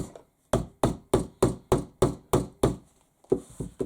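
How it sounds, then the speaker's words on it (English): Nine sharp, evenly spaced hammer whacks on a backpack piece being flattened during bag sewing, close and loud, followed by a few quicker lighter taps. "I do like to whack it with a hammer, just to make sure it's laying nice and flat."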